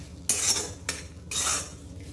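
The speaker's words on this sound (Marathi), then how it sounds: "गॅस बारीकच ठेवायचा आहे हे सर्व व्यवस्थित एकदा हलवून घ्यायचं" Spoon scraping and stirring a green chili mixture in a pan over low gas gives three short metallic scraping strokes, close and moderately loud, with no talk.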